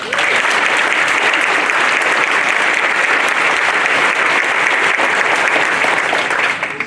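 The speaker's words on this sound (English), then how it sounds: "Let's give a big round of applause for" Audience applause fills a white coat ceremony in Palmer, Florida, a loud, steady wash of many hands clapping that runs unbroken throughout.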